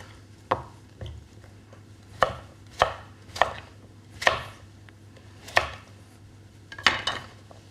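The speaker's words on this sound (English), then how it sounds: "And cut this into nice chunks." A knife chops a vegetable into chunks on a board with about ten sharp, separate thuds at an uneven pace, close and distinct over a faint steady hum, with no talking.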